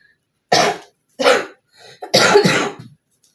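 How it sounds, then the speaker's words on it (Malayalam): Three harsh, close coughing bursts from a person with a lingering cough, spaced about half a second apart, with a softer throat sound between the last two, in a home kitchen during cooking. "എൻ്റെ ചുമ മാറിയിട്ടാ, എന്നാലും ചെറുതായിട്ടുണ്ട്"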